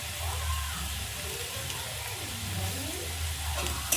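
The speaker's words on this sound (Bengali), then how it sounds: "আর কাঁচা লঙ্কাগুলো দিয়ে আমি কিছুক্ষণ ভাজতে থাকবো" Green chillies frying with salt in a pan for homemade chowmein, giving a continuous soft sizzle with faint stirring, steady and close, with no voices.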